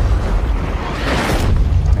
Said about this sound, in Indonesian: tiba-tiba sebuah ledakan terjadi